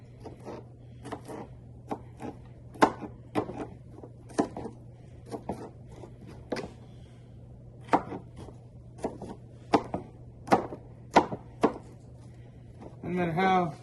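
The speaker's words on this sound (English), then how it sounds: "Let's get another little bit more of this onion here. Cut it up." Knife chopping onion on a cutting board while cooking venison, irregular bursts of sharp, close taps in quick clusters separated by pauses, with a steady low hum underneath.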